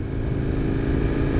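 A KTM Duke motorcycle engine runs loud and close, a rough, throbbing rumble held steady through the brief moment.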